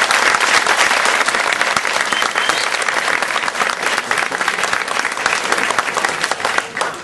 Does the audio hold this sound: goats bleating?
no